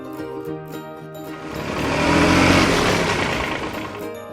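A tractor engine runs steadily and then builds to a louder, fuller roar midway before easing slightly, heard up close with no other sounds.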